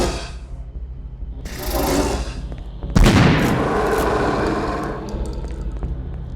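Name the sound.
layered monster growl: dishwasher drain, lion, crocodile hiss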